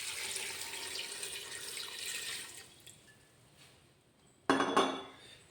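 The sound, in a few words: pouring one litre of water for pineapple wine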